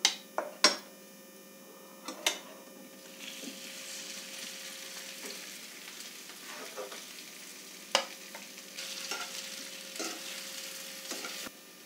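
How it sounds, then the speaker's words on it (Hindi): Potatoes frying in roasted spices in a pan, a steady soft sizzle broken by occasional sharp clinks and scrapes of a spoon stirring against the metal. "हमारे मसाले भून चुके हैं, अब इसके अंदर"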